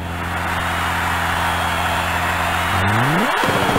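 Race car engines in Rage Racer idle with a steady low drone at the starting grid, then one engine revs up sharply near the end, its pitch climbing fast before dropping off, with no talk over it.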